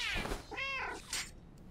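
Stray video game cat lets out a clear, close meow with a rising then falling tone, loud over soft game ambience, followed by a brief thump.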